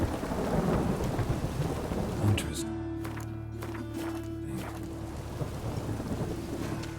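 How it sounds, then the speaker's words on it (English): A low rumble of thunder rolls under steady rainfall in the video game Star Wars Jedi: Fallen Order. Someone speaks briefly, and the rain continues throughout. "Rain, I like rain. Ah, Raining again."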